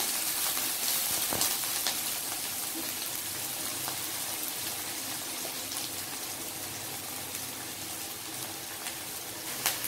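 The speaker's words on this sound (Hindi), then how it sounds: "अब डालेंगे प्याज और इसको भी अच्छी तरह से ब्राउन होने तक भूनूंगी" Steady, close sizzling of onions frying in hot oil with curry leaves in an Indian kitchen, a dense continuous crackle with faint stirring, no talking.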